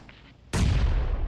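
A grenade goes off in PUBG Mobile, one sudden heavy blast that cuts in after a brief quiet stretch and then rumbles and decays over the following second, loud and close.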